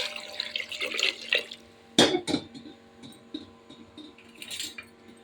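Water poured into a pot of Mysore lentils with tomato, onion, garlic, cumin, turmeric and curry leaves for sambar, a splashy pour with drips and a sharp burst near the middle, fairly quiet and close.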